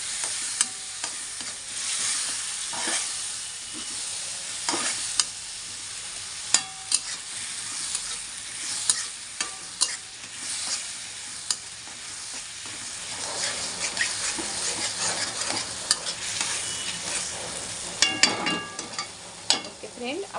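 Tomato paste is stirred into a masala in a hot pan: a steady loud sizzle with repeated spoon scrapes and clacks against the metal, spaced every second or two.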